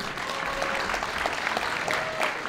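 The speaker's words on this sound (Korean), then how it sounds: "이 두 선수에게 다시 한번 힘찬 박수를 부탁드립니다." Crowd applause for two high school finalists at a competition show, a sustained wash of clapping at moderate level with a faint whistle-like tone drifting through.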